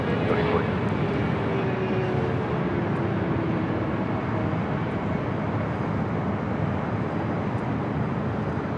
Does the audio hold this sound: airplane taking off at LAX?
yes